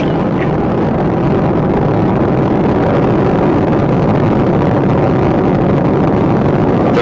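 Space Shuttle Discovery's three liquid-fuel main engines roar during the STS-124 launch, a loud, dense, unbroken rumble that fills the whole stretch without pause.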